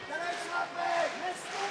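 A fight crowd at an OKTAGON 35 MMA bout cheers and shouts in a continuous, moderately loud roar, swelling in waves, with an indistinct voice calling out above the noise.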